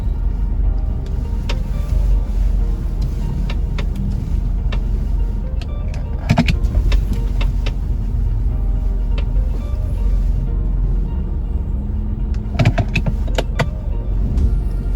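A car parking, with a steady engine and road rumble close by and a few sharp clunks and mechanical whirs in the middle and near the end.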